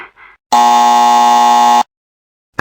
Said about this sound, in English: they press any button on their phone and we'll hear a buzzer